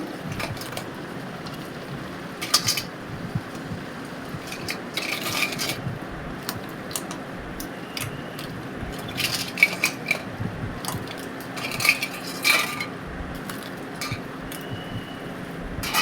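Washed crab pieces for a crab curry go into fried masala in a pan and get mixed, giving scattered clinks, light scrapes and clatter of a utensil against the pan, close by with no talking.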